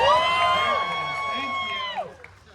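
An audience at a Deadpool story-time event claps and cheers with whoops, a dense crowd roar sustained throughout and fading near the end.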